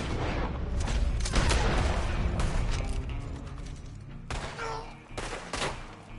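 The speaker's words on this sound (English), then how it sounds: "Still got dudes shooting at me." Heavy gunfire in Red Dead Online, a dense volley of overlapping shots early on, easing into scattered loud cracks and booms with brief pauses between them.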